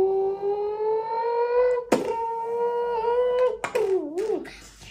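A voice imitates a Toyota Supra engine, producing a rising whine that breaks off, resumes, then wobbles up and down in pitch like gear changes, close and fairly soft.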